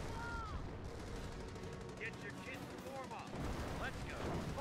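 Mortar fire striking a tank in the World War II strategy game Company of Heroes, with a steady dense rumble of gunfire and explosions and a few sharper impacts rising out of the battle din.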